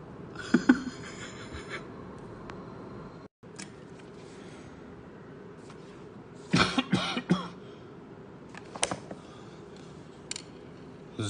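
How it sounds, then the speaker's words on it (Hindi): Several sharp coughs in a quiet indoor room: a cluster near the start, then louder rasping bursts midway and a few fainter ones later, with no talking. "जरा सी खांसी होती है तो दिल सोचता है"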